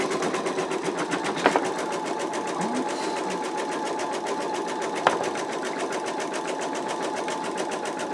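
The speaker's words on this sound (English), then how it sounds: "what we're stitching now, is stitch color 3." A home embroidery machine stitches an in-the-hoop wallet in a steady, close, rapid mechanical chatter with a fast even needle rhythm, broken by a couple of brief sharp clicks.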